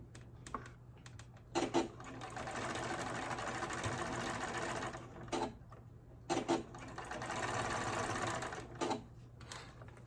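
A sewing machine runs in sustained bursts while stitching along the serged seam of a skirt, the steady mechanical whir stopping and restarting several times with small clicks between runs.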